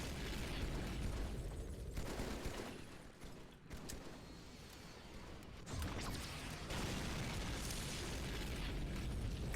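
Video game explosions from the 2003 Halo 2 E3 demo, loud, broadband blasts and bursts over continuous dense action noise, with a brief dip near the middle before the roar resumes.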